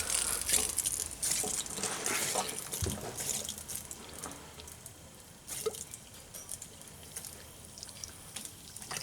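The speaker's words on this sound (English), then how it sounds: "Turn the water on for the sink first." Water runs steadily from a sink faucet in a garage laundry setup being tested, a close, even hiss with a few splashes and drips throughout.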